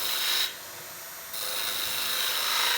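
A 3/4-inch skew chisel takes timber off a spindle turning on a wood lathe, giving a close, steady hissing scrape. It drops away briefly for under a second, then resumes.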